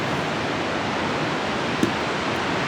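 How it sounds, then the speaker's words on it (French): Small sea waves wash in a continuous broad, even hiss of surf, steady and fairly loud with no distinct breaks or separate crashes. "Il y a plus de petites vagues, mais ça bouge."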